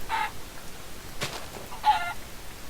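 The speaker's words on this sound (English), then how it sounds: "We're just going to pickaxe a few chickens." Minecraft chickens give two short clucks about two seconds apart, moderately close, with a faint hit sound between them against a quiet background.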